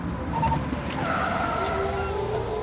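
A vehicle braking to a halt on a road, with a steady engine rumble and a rising brake squeal near the end, fairly loud and close with no talk over it.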